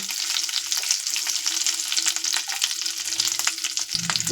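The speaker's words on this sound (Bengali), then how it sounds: "কারি পাতা ফোড়ন কারি পাতাগুলো ফাটছে" Curry leaves and garlic crackle and sizzle in hot oil, a steady close frying hiss with small pops throughout and a brief clatter of stirring near the end.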